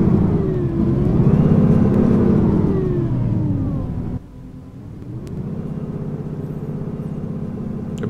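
A city bus engine in the video game OMSI 2, a Euro 3 with a ZF transmission, drones and rumbles steadily, rising in pitch as it accelerates, dropping off briefly, then settling back into a constant low hum.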